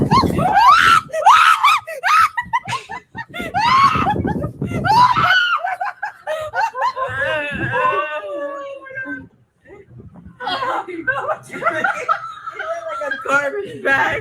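People screaming and shrieking loudly, mixed with chuckles, snickering and excited chatter, the voices overlapping nearly throughout with only a brief lull.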